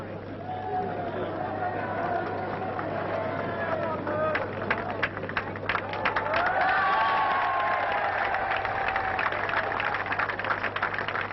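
A Cheltenham racecourse crowd applauds and cheers the returning Gold Cup winner, a steady broad wash of clapping and murmuring voices that swells louder in the second half, with faint background commentary.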